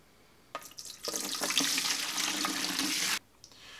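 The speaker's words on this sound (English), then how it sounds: "I'm just going to try to pour it in here as carefully as I can" Fruit wine is poured from one vessel into another during rough racking, a steady close liquid rush lasting about two and a half seconds after a brief start, then stopping abruptly.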